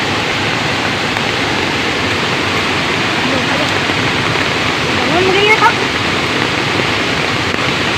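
Steady, heavy rain falls in a continuous dense hiss during a flood, loud and unbroken throughout, with a faint brief sound rising briefly near the middle.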